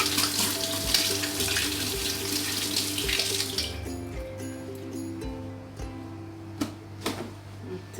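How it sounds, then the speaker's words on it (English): Tap water runs steadily into a kitchen sink while hands are washed under it, close and continuous, easing off partway with a few small splashes near the end. "let me just wash my hand a little bit"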